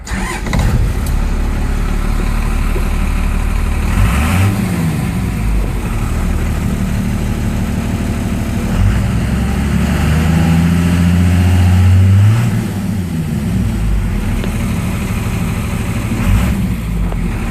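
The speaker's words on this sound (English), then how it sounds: "I'm gonna fire it up" Cummins diesel engine in a 1967 Ford F250 4x4 highboy cranks and catches, then settles into a loud, rough, close idle with a brief rev midway before returning to a steady rumble.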